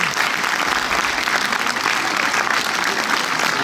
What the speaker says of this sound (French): je vous propose d'applaudir le réalisateur Emmanuel Gilibert et Arnaud Ducret.